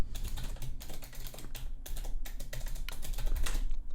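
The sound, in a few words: typing a password on a computer keyboard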